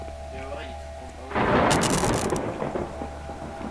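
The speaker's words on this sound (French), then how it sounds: "Ça fait assez flipper, il y a beaucoup d'éclairs." Thunder cracks and rumbles loudly through a storm in the Kraven Manor game, with rain and a low ambient hum before and after the crash.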